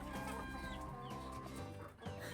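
Cockerels cluck and call in a poultry range area, a dense overlapping flock chorus that stays loud and close throughout.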